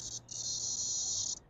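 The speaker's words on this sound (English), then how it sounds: "there's a cicada in there. It's stuck in there." A cicada trapped inside a mobile detailing truck setup gives a loud, sustained buzzing drone with a brief break near the start, close by, over faint low background hum.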